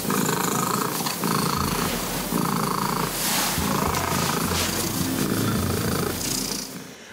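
A recording of a domestic cat's loud purring, played back on a TV talk show: a steady low rumbling purr pulsing in regular breath cycles, close and continuous for several seconds before fading.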